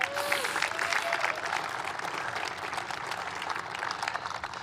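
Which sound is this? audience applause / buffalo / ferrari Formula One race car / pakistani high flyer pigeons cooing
audience applause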